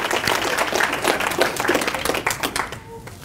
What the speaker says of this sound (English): let's give a round of applause to everybody